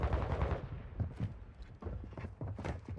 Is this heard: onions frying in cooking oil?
no